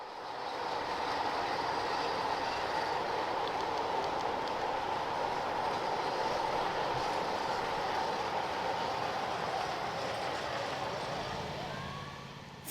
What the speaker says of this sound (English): we catch Brad Peterson's Plum Cove GE23 locomotive crossing the trestle in its B&M inspired paint scheme.